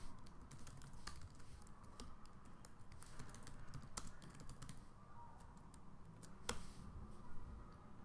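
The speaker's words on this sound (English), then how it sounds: "So I'll just type the typical hello world program." Soft, rapid clicking of a computer keyboard as a short Python hello world program is typed, a steady run of close keystrokes with a few louder taps and no talking.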